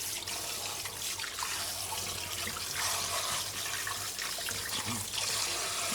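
Tap water runs steadily into a sink while raw chicken feet are rinsed for black vinegar chicken feet, a continuous close splashing hiss with no pauses.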